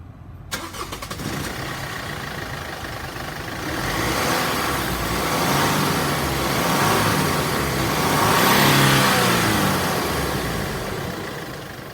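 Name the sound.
Mercedes Sprinter van diesel engine starting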